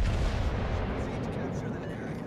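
Naval gunfire from a warship in World of Warships, a heavy, deep, booming roar that fades slowly over a couple of seconds with a low rumble underneath.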